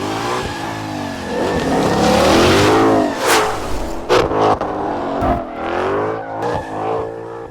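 A 2021 Ford Raptor's supercharged 5.2-liter V8 revs loud and close, climbing and falling through several throttle blips with sharp, snarling peaks and no talk.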